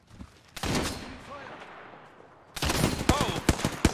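Gunfire in the video game Apex Legends, with a sharp burst near the start and then rapid repeated shots toward the end, loud and close, mixed with game sounds and brief voices.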